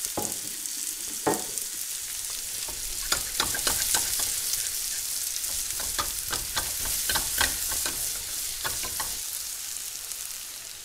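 Squash fries in oil in a pan with a continuous close sizzle, repeatedly broken by crisp spatula scrapes and clicks as the pieces are turned.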